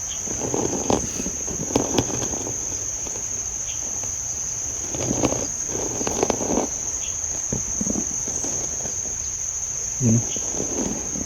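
Constant shrill insect buzzing near a spot with a strong foul smell, where flies are gathered close by; a steady high drone runs throughout with scattered faint thumps and rustles.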